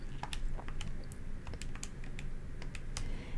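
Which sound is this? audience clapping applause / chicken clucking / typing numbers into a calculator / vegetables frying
typing numbers into a calculator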